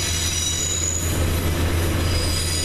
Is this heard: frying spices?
no